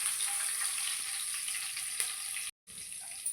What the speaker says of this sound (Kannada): ಸಾಸಿವೆ, ಹಸಿಮೆಣಸಿನ್ಕಾಯಿ, ಕಡಲೆಬೇಳೆ ಮಿಕ್ಸ್ ಮಾಡ್ಕೊಂಡು ಹುರ್ಕೊಳ್ಳೋಣ